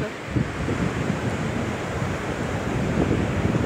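Sea waves wash against the shore at the Gateway of India in Mumbai, with the Arabian Sea a steady low roar mixed with wind buffeting the microphone across the whole stretch and no voices.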